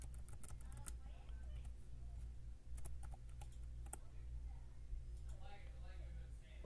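Password being typed on a computer keyboard, with a scatter of sharp key clicks in short bursts over a steady low room hum, and some talk around them.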